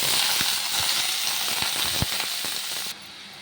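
Mustard seeds, dried red chilies, curry leaves and garlic crackling in a hot tempering, a bright continuous hiss with scattered sharp pops and spits close up, cutting off abruptly near the end.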